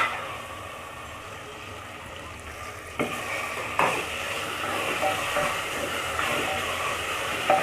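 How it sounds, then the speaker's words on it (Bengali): Ginger and garlic frying in hot oil, a soft steady sizzle with a few sudden pops and spatters and an occasional utensil knock, close by. "আদা রসুনটা তেলের মধ্যে ছাড়লে এটা একটু ছিটে চলে আসে"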